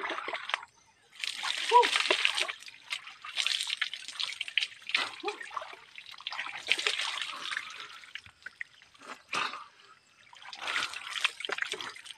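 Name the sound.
water splashing while bathing with water from a hand pump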